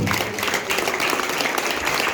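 A church congregation gathered for a Christmas clothing-donation and lunch event claps together in steady, dense applause, moderately loud and continuous throughout.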